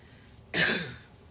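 A single short, harsh cough, close and fairly loud, bursting out of a quiet room and fading within half a second.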